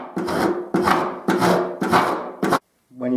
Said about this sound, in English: So I've got a very coarse file, almost like a rasp.